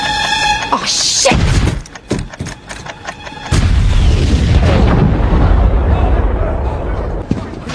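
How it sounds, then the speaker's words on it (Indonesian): A bomb exploding on the Hudson barge, with loud deep booms and crashing debris over a roaring, sustained blast rumble and shouting voices in a chaotic scene. "Akhirnya bom itu meledak di tongkang Hudson."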